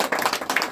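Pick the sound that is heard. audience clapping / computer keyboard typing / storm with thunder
audience clapping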